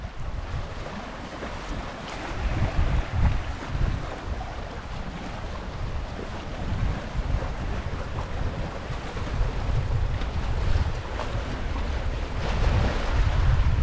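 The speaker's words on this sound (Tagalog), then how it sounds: "Malakas yung hangin." Strong wind roars and buffets the microphone continuously, with surging gusts over a background of water.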